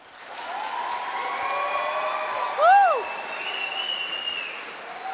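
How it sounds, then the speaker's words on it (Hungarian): Audience applause in a hall at a Hungarian drawing-battle event, a broad steady wash of clapping that builds, swells briefly with a whistle, and continues loud. "Gyerünk, tapsoljatok egy hatalmasot!"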